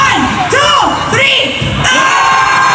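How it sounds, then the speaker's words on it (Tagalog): A political rally crowd at a campaign meeting de avance shouting together on cue, a loud massed roar of voices and whoops rising in a burst, close and dense. "Iparamdam natin ang galit at hagupit bilang Pilipino. Sumigaw tayo ng ah!"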